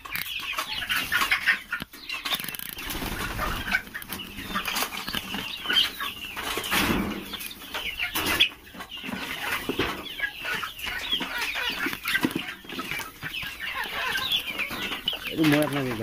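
Local desi chickens cluck and call in short, irregular bursts, close by and fairly loud, with a person speaking at times among them.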